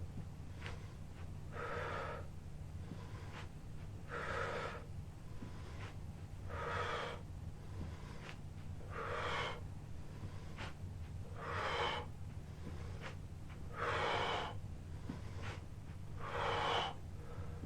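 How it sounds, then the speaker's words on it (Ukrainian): Rhythmic heavy breathing during back-strengthening exercise, about eight strong breaths at regular two-second intervals, close and fairly quiet over a steady low hum. "Не забувайте про правильне дихання."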